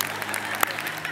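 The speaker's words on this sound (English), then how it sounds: "Some of you are clapping" Scattered clapping from a church audience at a spring break mission trip talk, a light, uneven patter of hands that stays fairly steady and moderate in level throughout.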